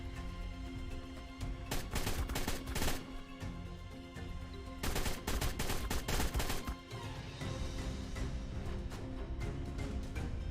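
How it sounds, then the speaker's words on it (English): Assault rifle fire in the ARK video game, aimed at a Brachiosaurus during taming, comes as rapid, loud bursts of shots in repeated clusters over a continuous low game soundscape. "But you do have to be careful with an assault rifle because you will miss."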